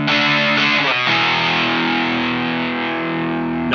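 Electric guitar through a vintage Bixonic Expandora distortion pedal set to overdrive mode, a loud sustained chord with gritty, saturated harmonics, opening with a brief strummed attack and ringing out alone without talking.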